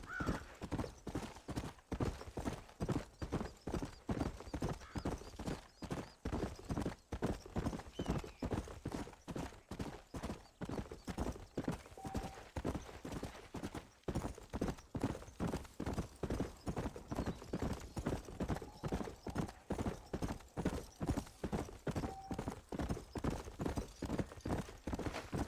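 Horse hooves galloping in the video game Red Dead Redemption, a fast, steady clip-clop rhythm of hoofbeats running continuously and close, with an occasional faint whinny and light ambient game sound.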